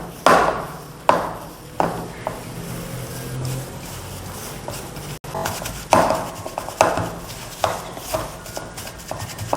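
Mashed potato for aloo tikki is mixed with spices, including chaat masala, producing a series of sharp knocks and soft scrapes that repeat roughly every second at close range, with no talking.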